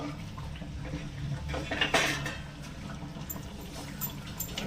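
Katla fish pieces are stirred in a pan, giving soft scraping and clinking of a utensil against metal, with one sharper knock midway. The sound is close and moderate over a low background.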